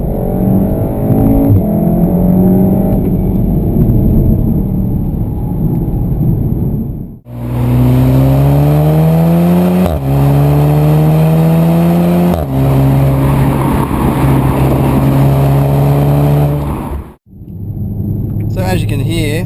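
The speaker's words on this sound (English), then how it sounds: "As you can hear, the engine sounds awesome." A 2015 Volkswagen Golf R Mk7 engine accelerates hard through the gears, rising revs broken by quick shift dips, loud and close with a whirring rasp.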